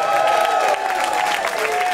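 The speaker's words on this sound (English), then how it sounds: "let's have a nice big round of applause" A comedy club audience at a legion hall claps loudly and continuously for a brief moment, dense close applause with a faint cheer mixed in.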